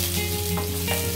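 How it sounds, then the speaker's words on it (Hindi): Onions hit hot oil in a pan, a loud, dense, continuous sizzle with close frying crackle and a steady low hum beneath, no talk. "सबसे पहले मैं प्याज को डालूंगी।"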